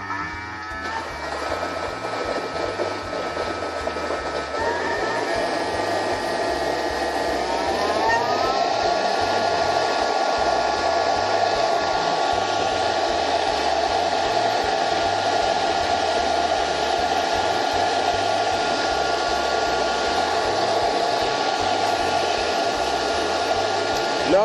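Food processor blending hot soup at 100 degrees, a loud continuous whirring motor with a droning hum whose pitch shifts upward after a few seconds, then holds steady to the end.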